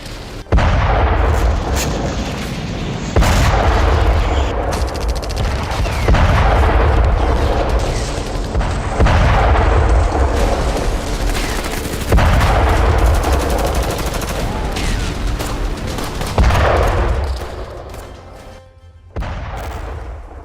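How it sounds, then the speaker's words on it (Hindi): Israeli air strikes bombing Hamas positions in Gaza make a series of heavy, booming blasts, about six loud impacts spaced a few seconds apart, each followed by a rumbling roar. "आईडीएफ ने हमास के ठिकानों पर बम बरसाए।"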